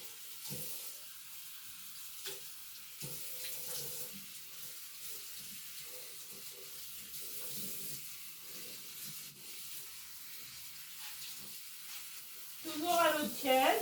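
Water runs from a tap into a sink as a face is rinsed with lukewarm water, giving a steady hiss with splashes and dabbing sounds under a quiet bathroom background.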